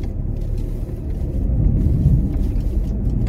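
A van rolls along a snowy road with a steady, loud low engine rumble and road noise throughout, and no voices.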